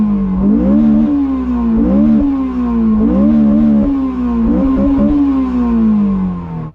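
A Honda race car at a racing event drives hard with its engine loud and close, rising and falling in repeated revving surges as it works through the gears, then cutting off abruptly at the end.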